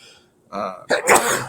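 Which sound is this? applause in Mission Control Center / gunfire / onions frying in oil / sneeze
sneeze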